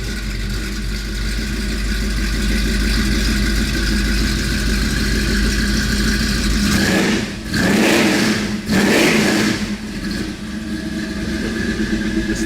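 A 1978 Dodge van engine idles with a loud, deep, steady rumble close to the exhaust, then revs hard twice in quick succession before settling back to a rough idle.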